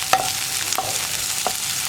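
Chopped onions and two sprigs of curry leaves fry in a pan for cheera parippu curry, a soft continuous sizzle broken by three sharp spatula taps, close and moderately loud.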